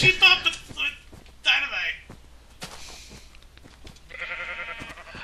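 Sheep in the Minecraft video game bleat in several short, nasal cries, clear and close, separated by brief pauses with a sustained tone near the end.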